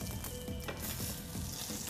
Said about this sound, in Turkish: Yapmış olduğumuz patlıcan tavada hemen kızarttık.